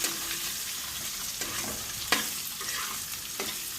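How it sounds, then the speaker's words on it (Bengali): Boiled potatoes being stirred in a frying pan for soybean-chhana muitha, a steady sizzle with scraping spoon strokes and a few sharper clacks against the pan, close and moderately loud. "একটু নাড়িয়ে নেবো আলু সেদ্ধটা।"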